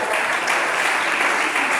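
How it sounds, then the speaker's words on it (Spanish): A crowd applauds steadily, a dense wash of clapping that holds at an even level throughout. "Denle ese aplauso al Señor si lo quiere adorar."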